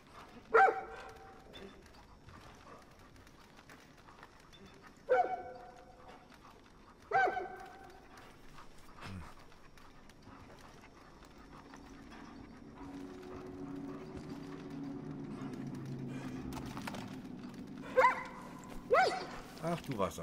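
A dog in the video game Far Cry New Dawn barks and yips in a few short bursts, some doubled, over low game ambience, while someone talks at times.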